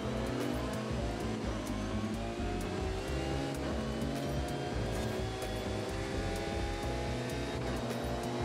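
A stock car engine racing in Forza Horizon 5, a loud, continuous roar with shifting pitch as it accelerates and changes gears, steady throughout.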